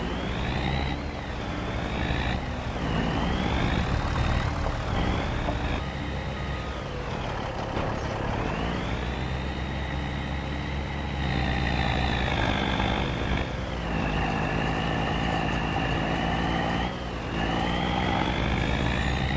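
A Kenworth truck engine in the Farming Simulator 2025 video game drones loudly and steadily, its pitch climbing and dipping as it revs and shifts, continuous throughout with no voices.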